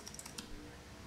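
Rapid keystrokes on a Logitech MK375S wireless keyboard make a steady run of light, close clicks and taps with no voices.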